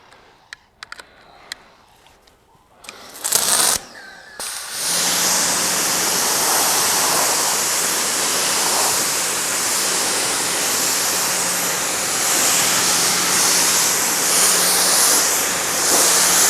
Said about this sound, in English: Let's quickly just rinse off the wash mitt. Just rinse off the shampoo.